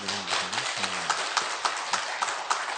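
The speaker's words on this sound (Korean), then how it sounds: "박수 안 쳐주십니까?" A church congregation at a revival meeting breaks into brief applause after a short spoken line, scattered sharp claps falling into an uneven rhythm.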